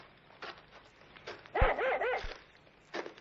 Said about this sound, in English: what's the matter with your dog?